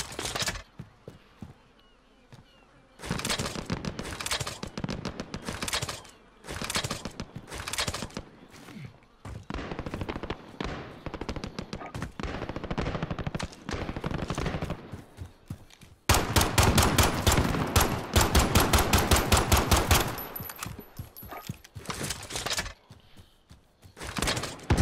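Placeable turret fire in Call of Duty Modern Warfare, loud rapid bursts repeating over about twenty seconds, the densest sustained stream near the end, with brief gaps between volleys.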